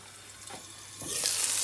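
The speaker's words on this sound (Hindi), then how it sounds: "और मैं फ्राई कर रही हूँ कबाब" Kebabs fry in a pan with a steady, close sizzle that swells louder partway through.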